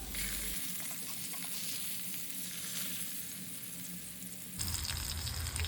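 Pomfret fish frying in an oil-filled pan, a steady bright sizzle that runs throughout and grows louder near the end, with no talking.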